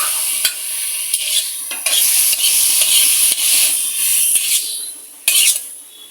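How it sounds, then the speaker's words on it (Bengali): Garlic and green chilies fry hard in hot oil in a pan, a loud, close, bright sizzle that swells and surges, punctuated by sharp spatula clicks against the pan as they are stirred. "মরিচগুলো দিয়ে দিব, দিয়ে ভেজে নিব। এটা সুন্দর করে ভেজে নিতে হবে।"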